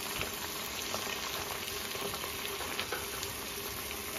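Seven or eight garlic cloves frying in oil in a pan, a soft steady sizzle with faint crackles, close and continuous, no voices.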